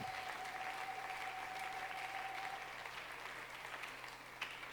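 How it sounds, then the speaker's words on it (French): A church congregation in Lubumbashi applauds steadily, a dense wash of clapping that carries on evenly for several seconds, faint and slightly distant, with no voices on top. "Applaudis très bien pour le Seigneur."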